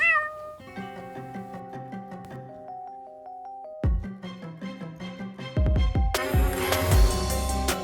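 Cats living at the Ernest Hemingway Home and Museum in Key West meow in a rapid string of loud, pitched calls with no one talking.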